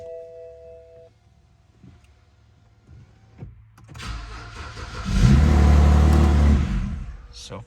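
BMW E90 328i with a crank sensor fault: a faint electronic chime and quiet clicks, then the starter cranks and the engine catches, revving loudly up before settling into idle.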